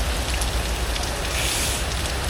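Steady rain falls on a Mexico City street, a dense, even hiss of drops on pavement close by and continuous throughout, with no voices.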